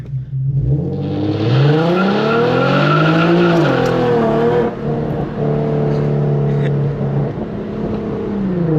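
A tuned Infiniti Q50 launches from a dig on a rough surface, engine revving hard as the tires spin and squeal, then settling into a steady loud drone; close and loud without talk.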